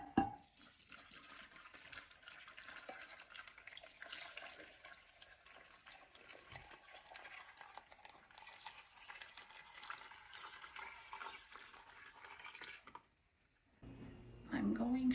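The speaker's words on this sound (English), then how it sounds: "I'm going to add a little bit more water to these because it has to be covered with water." Water poured into glass jars of cucumbers in brine for fermenting, a steady splashing trickle running continuously for about thirteen seconds before stopping, followed by a brief clatter.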